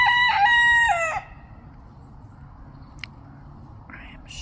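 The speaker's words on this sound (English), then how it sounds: "What in the world is Red doing? Red is the shyest, scarediest rooster I have" A shy red rooster crows loudly and close by in a single long cock-a-doodle-doo. It then cuts off into quiet background, with a brief click and a faint high call near the end.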